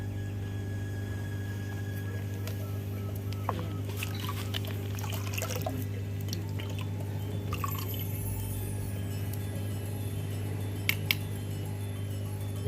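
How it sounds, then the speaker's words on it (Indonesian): Liquid poured into water already dosed with prebiotic for a catfish biofloc tank, a soft trickle and scattered drips over a constant low electrical hum, with no one speaking. "Kita masukkan ke dalam air yang sudah ada prebiotiknya."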